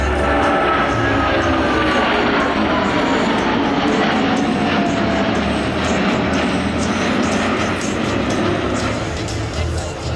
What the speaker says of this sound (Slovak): momentálne Airbus 380 pridáva plyn, aby ukázal aj svoju dynamiku